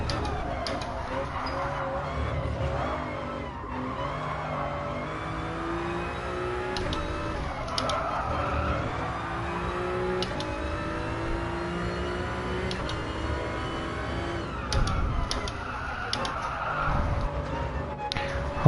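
A race car in Gran Turismo Sport downshifts and loses traction, its engine note dropping and climbing through gear changes with faint tire scrub and squeal, the sound low and continuous.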